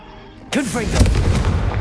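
Confringo spell blast in Hogwarts Legacy, a sharp, loud burst with a brief descending whooshing whistle, followed by a heavy, rumbling crackle; a voice calls out just before.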